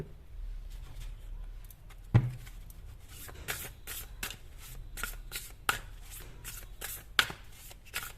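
Tarot cards being shuffled by hand during a reading, soft repeated riffles and slaps of the deck at close range, with a few sharper snaps standing out, and no talking.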